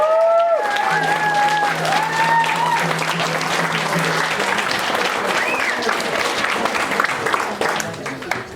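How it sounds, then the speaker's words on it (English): A crowd of striking workers at a sing-along bursts into sustained applause, dense clapping filling the room for several seconds, with a few voices and a brief whoop early on before it tapers off. "Let's have a round of applause."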